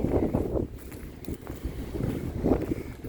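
Wind over a small lake buffets the microphone in gusts, rumbling and rising and falling over a few seconds, with faint water and boat sounds underneath.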